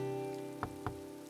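Rain falls steadily on an island in a video game, a soft continuous hiss over faint game tones, broken by two quick taps close together.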